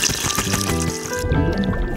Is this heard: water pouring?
yes